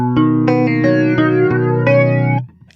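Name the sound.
electric guitar through pedal's second flanger setting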